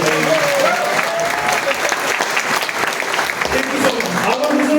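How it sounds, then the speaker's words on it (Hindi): Audience applause for a motivational speaker at a seminar, dense and steady throughout, loud and close, with a speaking voice running faintly underneath. "मेरे लिए ताली बजाओ"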